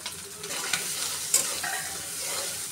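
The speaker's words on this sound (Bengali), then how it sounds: "এখন আমি হলুদ লবণ দিয়ে চিংড়ি মাছটা সুন্দর করে ভেজে নেব" Shrimp frying in a pan with turmeric, salt, onion and green chili make a steady hiss of sizzling oil, broken by a few sharp scrapes of a spatula stirring, with no voices.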